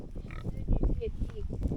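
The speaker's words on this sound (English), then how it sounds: "I think this is a wire haired. Wire-haired pig" A wire-haired pig grunts at a log trough beside a muddy pond, with short low snorts mixed under nearby people talking.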